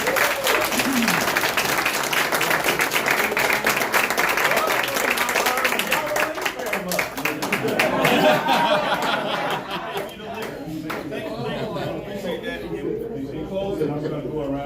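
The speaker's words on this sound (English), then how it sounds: "Let's give them a round of" An audience at a community coffee-and-conversation event with city councilmen claps loudly and continuously, mixed with chatter and a few chuckles, then the applause fades toward the end.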